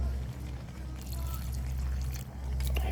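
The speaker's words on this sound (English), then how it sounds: "I'm just going to add a little bit more water" Water poured into a pot of nettle soup cooking on a small Bushbox XL camp stove, a steady close trickle and splash running continuously over a low rumbling background.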